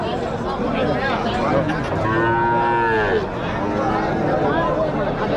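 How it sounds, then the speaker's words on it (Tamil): Jersey cattle at a native cattle market in Uthangarai moo loudly and close by, with long drawn-out calls over a constant babble of chatter from people at the market. "மாட்டு பக்கம் பார்த்தீங்கன்னா எல்லாம் ஜெர்சி மாடுங்க ஃபுல்லாக இருக்கும்"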